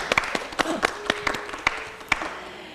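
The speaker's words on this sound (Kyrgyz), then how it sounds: "Дагы кол чабып койгула." Scattered audience clapping on a Kyrgyz talk show, individual claps sharp and distinct rather than a dense roar, thinning out over a few seconds with faint background voices.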